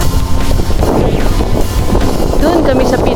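Strong, hot wind buffets the microphone in loud, rough gusts on a hill at Lambingan Hills, with a faint motor-like hum underneath.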